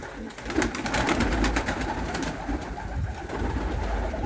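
Pigeons huddled together on a freezing winter morning at minus fifteen coo steadily and close by, their soft repeated calls layered over a constant low background.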